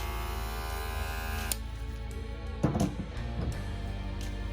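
An Andis Cordless Master hair clipper runs with a steady, even electric buzz close by, with a few light clicks and taps partway through.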